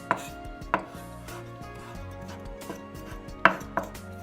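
Knife chopping on a cutting board during sandwich prep: a handful of sharp, irregular taps spread over a few seconds, close and fairly quiet, with no talk.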